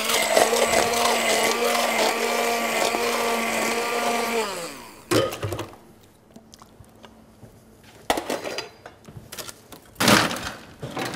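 An electric whisk whirs loudly and steadily, frothing a rum sour with egg white, then cuts off abruptly. Several sharp clattering bursts of nearby handling follow.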